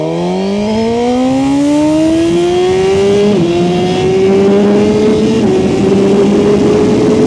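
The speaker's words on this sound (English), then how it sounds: "We are in launch control. I'm going to go into first gear, and we're going to see what can happen and try to do this like we're actually racing." Suzuki GSX-R1000R motorcycle launching hard under launch control, its loud, close engine note climbing steadily through first gear with a brief dip and recovery at each shift point, then continuing to rise.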